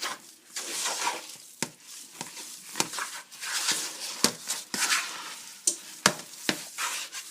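Oil-based apple pie crust dough stirred in a bowl, giving a close, wet, continuous swishing broken by repeated sharp knocks of the utensil against the bowl in an uneven rhythm.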